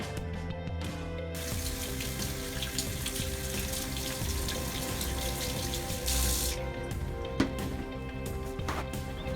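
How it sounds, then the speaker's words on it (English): Tap water runs steadily into a sink while someone washes their hands, a continuous close rushing splash lasting throughout with small shifts in the flow. "My first tip is to wash your hands regularly for at least 20 seconds, but preferably 40."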